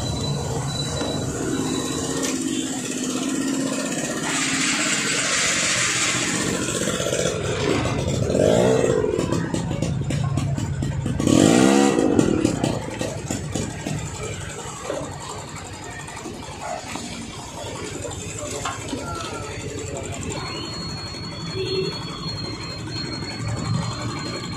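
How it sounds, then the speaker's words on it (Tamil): A Vespa scooter with a battery recharge problem idles nearby, its engine giving a steady low rumble that swells briefly before settling back to a continuous idle, with faint background noise. "இப்போ வந்து வண்டியை வந்து ஸ்டார்ட் பண்ணிவிட்டு ரீசார்ஜ் ஏறுதா அப்படின்னு சொல்லி பார்ப்போம்."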